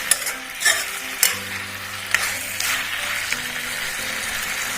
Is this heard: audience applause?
no